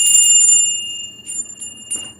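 A bright bell rings loudly, a sustained metallic tone that decays, followed by a few shorter, softer strikes.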